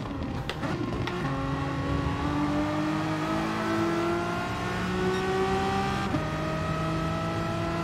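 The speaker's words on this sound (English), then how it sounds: "Now, I am driving the Renault Megane, Stuart." A Renault Megane race car engine in GT Sport drones loudly and steadily at high revs, rising gradually through a gear with a brief shift dip, heard alone without talk.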